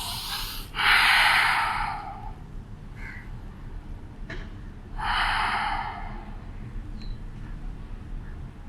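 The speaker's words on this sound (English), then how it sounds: "Last 5 breaths here." Two long, forceful breaths during a yoga plank pose, each a loud, rushing exhale lasting about a second, separated by quieter breathing and a faint background hiss.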